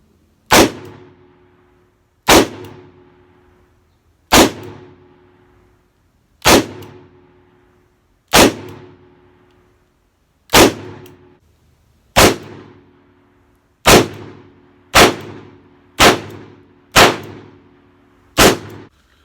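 A new 2020 Colt Python revolver fires .357 Magnum 158-grain FMJ rounds, eleven loud sharp reports with ringing tails, evenly spaced about two seconds apart at first, then coming quicker toward the end, with no talk between shots.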